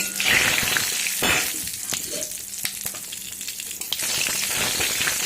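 Whole cumin, whole garam masala, dry chilli and a bay leaf sizzling in hot oil for a paneer dish, a steady crackling fry with sharp pops and a stirring scrape, close and fairly loud.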